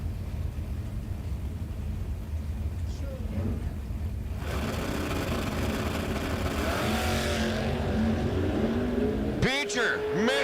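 Bracket drag race car launching down the strip at a bracket racing event, a loud engine roar that surges and rises in revs, with a commentator talking over it.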